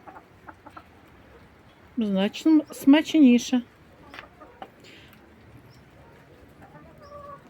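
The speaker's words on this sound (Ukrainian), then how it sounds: "Кури їдять зерно, а ця куриця прийшла доїдати мішанку." A hen eating feed mash lets out a short burst of loud, throaty clucks close by, amid quiet background noise and a few soft words of speech.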